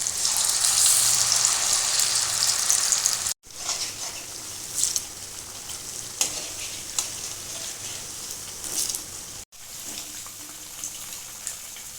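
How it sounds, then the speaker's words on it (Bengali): Batter-dipped semolina and flour snacks frying in hot oil give a loud, continuous sizzle and crackle, with two brief breaks and occasional sharp pops over the bubbling. "এবার আমি একটা করে নিয়ে এই ব্যাটারে ডুবিয়ে তেলে দিয়ে দেবো"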